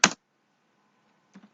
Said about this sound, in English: So you have to type web driver